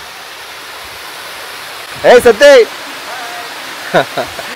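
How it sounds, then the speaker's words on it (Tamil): A waterfall at Kookal lake near Kodaikanal gives a steady, fairly soft rushing roar throughout, while someone speaks a few short loud words over it. "இங்கே பாருங்கள் எவ்வளோ அழகாக தண்ணி விழுகுதுன்னு."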